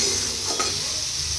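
Ginger, garlic and dry chilli paste stir-fried in hot oil with meat masala, a continuous close sizzle with a stirring scrape around the middle.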